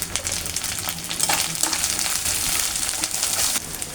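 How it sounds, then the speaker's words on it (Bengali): Ginger-garlic paste, turmeric, coriander and cumin powders fry in oil in a pan, a steady close crackle and sizzle with light stirring scrapes running throughout. "এই দেখেন আমি মশলাগুলো কষা নিয়েছি, যেমন তেল ছেড়ে দিছে।"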